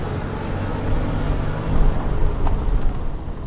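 An all-wheel-drive Toyota RAV4 drives along a dirt road, heard from inside as a steady low rumble of engine and tires, with gravel crunching and light knocks over the top.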